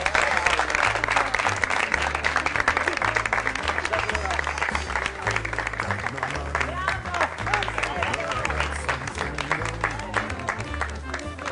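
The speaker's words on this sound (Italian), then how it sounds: "un caloroso applauso." A theatre audience breaks into sustained, loud applause to welcome the mayor, dense clapping that holds steady and slowly tapers, with a voice speaking faintly underneath.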